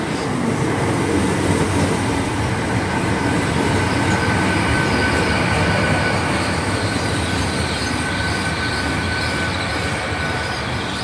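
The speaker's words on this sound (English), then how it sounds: "coming in now is a 1620 Great Western Railway service to Swansea." A Great Western Railway service to Swansea pulls into Bridgend station, probably a class 800 unit. It rumbles loud and close with wheel squeal and clattering over the rails, continuous throughout.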